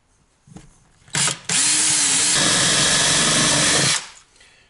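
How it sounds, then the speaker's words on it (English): A power drill with a 3/4-inch Forstner bit boring a shallow hole in OSB board, a brief motor blip, then a loud steady whirring grind for nearly three seconds before stopping, close by. "drill a shallow hole in the OSB where each nut is going to line up"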